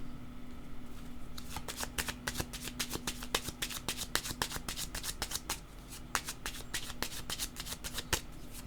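Tarot cards are shuffled close by in quick, crisp riffling bursts, many rapid flicks that run almost continuously for several seconds with only brief pauses.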